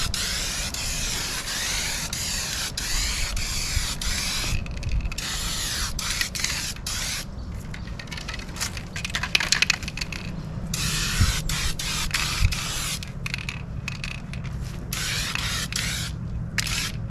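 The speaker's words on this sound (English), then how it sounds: "So when I spray this one, I'm gonna come up to about right here with the next coat" A spray gun applying gloss white paint to a car at home, steady loud hissing bursts that start and stop repeatedly as each pass is made, with brief pauses between strokes and no talk.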